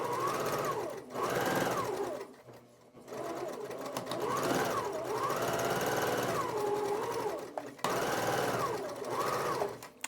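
A sewing machine stitches quilt scraps along one edge, pauses briefly for the fabric to turn, then stitches down the other edge. The motor whirs close with a humming pitch that rises and falls, and a voice speaks faintly under it.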